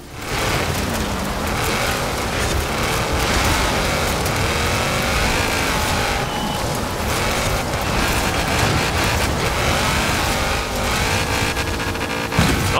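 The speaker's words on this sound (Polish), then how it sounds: "Bardzo fajnie się jedzie tym jeepem." A jeep driving through a stormy Forza Horizon 4 landscape toward Blizzard Mountain, its engine droning steadily and loudly without pause, with wind and road roar mixed into a dense, continuous wash of sound.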